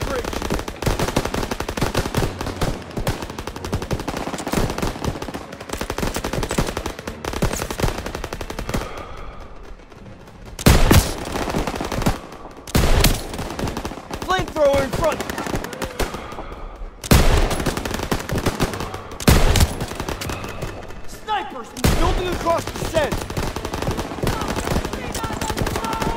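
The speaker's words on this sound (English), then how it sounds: "MGs, open fire." Sustained machine gun fire in the Call of Duty WWII video game, long loud bursts broken by brief pauses, with heavy rapid gunfire filling most of the stretch and in-game voices occasionally heard beneath it.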